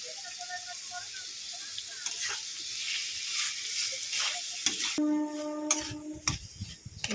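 Potatoes fry in a pan for a quick flour-based breakfast snack, giving a steady broadband sizzle that shifts sharply near the end as the pan is stirred and clatters.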